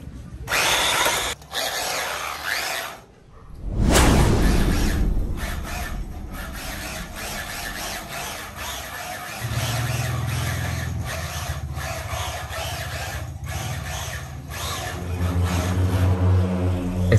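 An entry-level SG1603 RC drift car with drift tyres runs with a continuous buzzing electric motor whine that surges and dips as it drives, with one loud swoosh early on and no talk.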